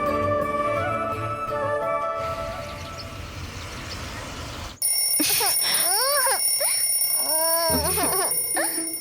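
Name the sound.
alarm clock ringing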